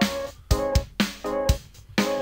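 A synthesizer tone run through a bandpass filter with a stuttering effect, which gives bright, choppy bursts that start and stop in an uneven pulse, played alone.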